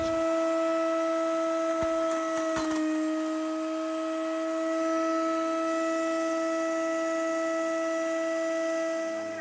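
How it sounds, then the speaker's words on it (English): A kitchen food processor runs steadily with a loud, even motor whine and hum while grinding dehydrated herring into hermit crab food. A few faint knocks come near the start. "So that's when my handy dandy food processor comes in."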